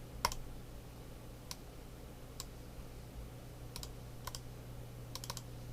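Sparse, sharp clicks of a computer mouse, single and in quick pairs, over a steady low hum with no talking.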